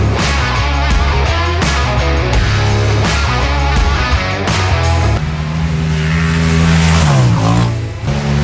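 A race car with an Airdam Clutches setup revs and accelerates around a track, its engine note climbing and dropping in repeated shifts, loud and close, with a sustained high whine and tire noise, no talking.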